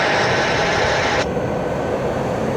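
Airbus A320 jet on its takeoff roll at night in rain and fog, a steady broad roar heard from a distance that holds constant throughout.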